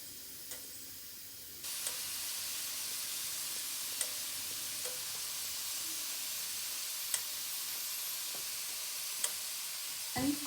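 Chili peppers fry in a pan on high heat, giving a steady close sizzle with a few sharp clicks and pops scattered across it.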